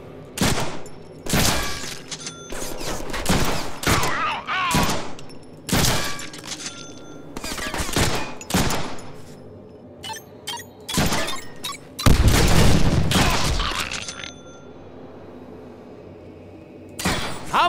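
Gunfire in the Deadpool video game, loud close bursts of repeated shots in uneven clusters, with a sustained rattling volley and impacts near the end, no talk over it.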